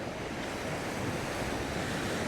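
Ocean waves rolling onto a beach in Mexico as the tide comes in, a dense, continuous wash of surf with wind noise, loud and steady throughout with no voices.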